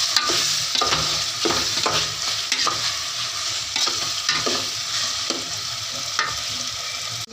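Okra stirred into a masala in a pan, with steady sizzling and repeated close scraping strokes of a spoon against the pan in an even rhythm, with no talking.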